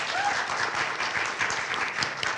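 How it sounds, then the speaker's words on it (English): Audience in a synagogue sanctuary during a Shabbat and Chanukah service gives a round of applause, a dense, even clatter of many hands sustained throughout at moderate loudness. "Give them another round of applause."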